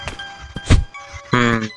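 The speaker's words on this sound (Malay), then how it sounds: "Kita taruh tong gas kat situ." A gas canister is set down in the horror game Ice Scream 2. One dull, heavy thunk lands amid game noises and short tonal chimes.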